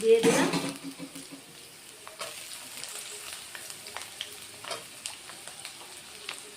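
Potato and pointed gourd pieces frying in a pan, with steady sizzling under scattered stirring clinks; a loud clatter as the vegetables drop in at the start, and a voice speaks briefly.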